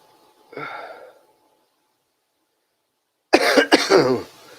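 A person coughs twice close to the microphone, first a short muffled cough, then after a pause a louder, harsher burst of coughing.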